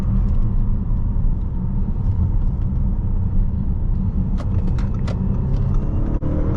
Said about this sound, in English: I'm just adding the throttle and it's going.